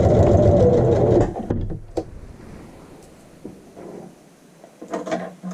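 A sewing machine back-stitches at the end of a French seam: a loud burst of rapid stitching stops abruptly, followed by a few faint clicks and one last brief whir of the needle.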